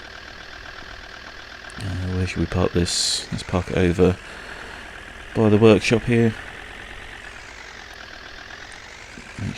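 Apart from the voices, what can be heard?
DHL lorry engine idling in the video game Farming Simulator 19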